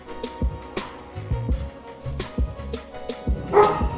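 A dog barks in a rapid series of sharp, close yips and woofs, loud and repeated across the whole stretch with short gaps between bursts.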